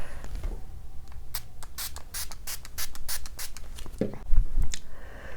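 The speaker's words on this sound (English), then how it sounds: "Just gonna spray it all over my face." A series of quick, short bursts of makeup fixer spray hiss close by onto a face, repeated in a loose rhythm, followed by some soft rubbing and handling noises.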